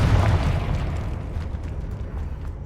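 A Confringo fire spell blasts in Hogwarts Legacy during a fight with Inferi, heard as a loud, rumbling explosion with a sharp onset that fades into a dense roar and slowly dies away.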